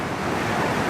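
Rushing river water at the top of Bird Rock Falls in North Carolina, a steady, loud, broadband roar that fills the whole moment with no pauses and no voices.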